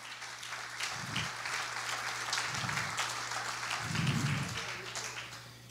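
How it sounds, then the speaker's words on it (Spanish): Church congregation applauding during an evangelical sermon, a soft, steady patter of clapping heard from a distance with low bumps of sound breaking through. "denle un aplauso al Señor"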